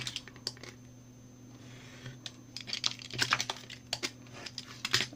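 Scissors cut through paper while an envelope is being made, a series of crisp snips and rustles that grow busier toward the end over a low steady hum.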